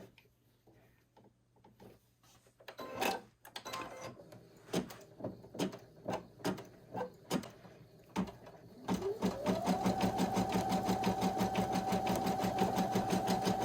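An embroidery machine sews a bead stitch straight onto gray fabric. A few sharp knocks and clicks come first, then a steady, close, rhythmic mechanical stitching whir takes over and runs continuously.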